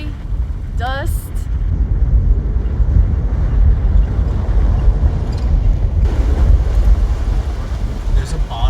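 Desert wind in the Mojave National Preserve buffets the microphone as a loud, constant low roar, close and unbroken throughout, with a brief thin whistle early on.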